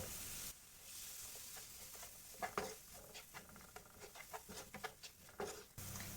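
Chopped small tomato frying in a pan with oil, stirred with a series of scraping taps and clatters over a steady soft sizzle, moderately close, with no voices.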